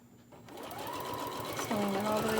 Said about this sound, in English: Sewing it all the way down.